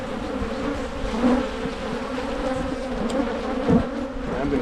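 Honey bees in an opened hive colony during early spring management hum in a continuous close drone, with individual buzzes swelling now and then.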